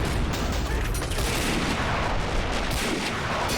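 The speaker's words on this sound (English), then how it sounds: "Still exchanging fire." Toy army men battle with sound-effect gunfire: dense, continuous rattling bursts and booms fill the whole stretch at steady loudness, with no talk over them.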